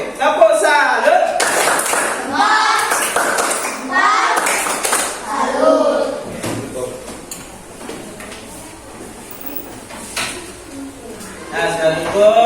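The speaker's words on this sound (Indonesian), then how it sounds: "Oke, tepuk salut." Classroom of children doing a rhythmic group clap, a few sharp bursts of hand claps mixed with lively kids' voices and chatter nearby.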